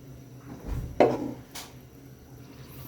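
A lid goes onto a cooking pot of jackfruit stew soured with batuan: one sharp metallic clank midway, then a lighter knock, close up over a quiet kitchen background.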